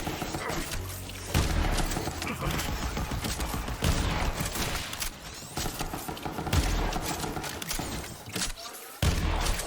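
Video game gunfire from a Borderlands 3 legendary weapon that fires bolts, one shot per magazine. Loud repeated booms and blasts are layered with mechanical clatter and battle noise in dense, continuous bursts.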